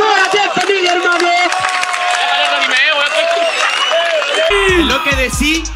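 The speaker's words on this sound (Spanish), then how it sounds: "¡Aplausos a toda la gente" A crowd cheers and applauds with whoops and shouts at a rap battle event, a dense continuous roar, while someone speaks loudly over it.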